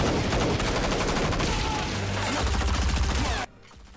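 Dense sustained gunfire from Stranger Things season 4 episode 8, a loud continuous rattling volley with booming undertones that cuts off abruptly near the end.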